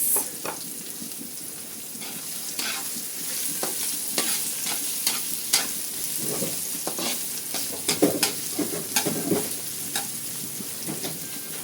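Garlic and onion sizzle in a pan for carbonara, a steady crackling fry with occasional scrapes and stirring clicks of a utensil, close and moderately loud, without talk.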